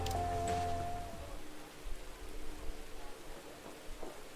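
Steady rain hisses and patters in a rally racing video game, with soft droplet ticks over a fading tonal hum at the start.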